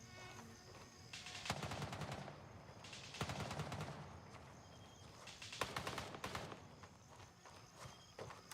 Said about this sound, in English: You see how many shots that dude took and he's still shooting me?